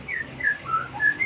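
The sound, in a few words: magpie robins calling after being startled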